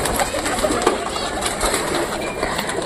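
Pigeons cooing and stirring as they flutter down one after another to feed on scattered wheat at a damaged house, soft repeated coos over a steady rustle at close range.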